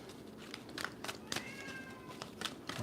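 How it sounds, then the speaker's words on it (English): Cats waking up and meowing: several short, faint meows scattered over quiet room noise, with one drawn-out call in the middle. "My cats just woke up."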